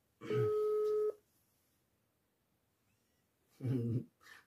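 After a number is dialed to reach a scammer, a telephone ringback tone sounds once: a steady, fairly loud tone lasting under a second. A long quiet gap follows, then brief speech.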